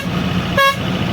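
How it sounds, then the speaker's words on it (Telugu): A truck's air horn gives a single short, loud blast over the steady road rumble. The truck is hauling an over-height load on a long highway run from Nellore to Kakinada. "ఎయిర్ హార్ను."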